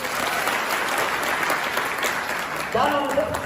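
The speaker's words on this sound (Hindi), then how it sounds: "जोरदार ताली बजाओ सर के लिए" An audience claps loudly and steadily throughout, a dense wash of applause at a leader training session, with a voice briefly speaking over it near the end.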